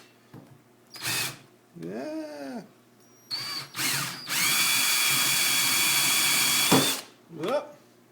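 A power drill boring into reef rock whirs in short bursts, then runs steadily for several seconds up close, with a brief spoken word between bursts.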